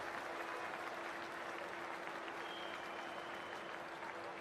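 Stadium crowd applauding in the Cricket 24 video game before a T20 match between Pakistan and Australia, a dense, even wash of clapping that fills the whole stretch without pause and with no talk over it.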